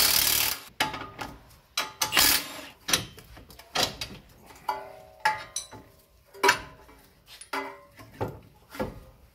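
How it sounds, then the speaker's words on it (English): Repeated mechanical bursts from a tool working on an axle nut during Honda Civic automatic transmission removal, a series of short loud rattling pulses with gaps between them, close up and without talking. "So we'll just use our impact."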